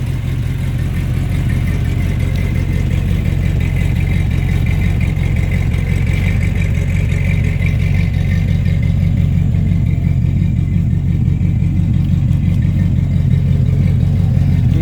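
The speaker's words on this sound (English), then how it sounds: "this is my V8 Sonoma cold start, idle, walk around" A 1994 GMC Sonoma pickup with a V8 and a mild cam idles after a cold start, holding a loud, steady, low rumble the whole time with no revs or pauses.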